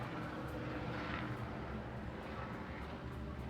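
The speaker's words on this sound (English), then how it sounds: "there's a helicopter." A steady, broadband engine roar of a helicopter passing overhead, continuous and fairly loud throughout with no speech.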